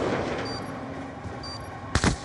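Gunfire in a first-person shooter video game gives a single sharp shot with a short echoing tail near the end, after a stretch of low game background noise.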